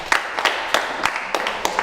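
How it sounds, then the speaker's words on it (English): Children clap for a girl named Deborah at a children's centre, a quick run of sharp, separate hand claps spaced about every third of a second, close and moderately loud with no talk over them. "Clap for her."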